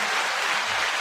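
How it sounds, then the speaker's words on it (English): Applause for a professor, a brief, dense, steady burst of clapping from a group. "9-second applause to Professor Skye once again."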